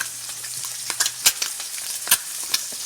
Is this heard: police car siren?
no